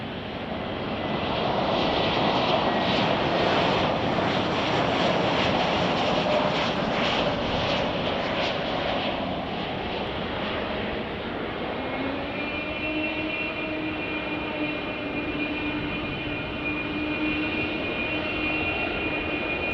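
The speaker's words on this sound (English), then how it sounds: "That noise you're hearing is that Air China Cargo 777 freighter powering up to" Air China Cargo Boeing 777 freighter engines roar and whine steadily nearby at Chicago O'Hare Airport, a broad rumble with rising tonal whistles as the thrust builds, no voices.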